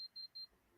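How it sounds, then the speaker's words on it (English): An electromagnetic field meter alarm gives three short, high, evenly spaced electronic beeps, faint and quick, with no talk. "that's my alarm"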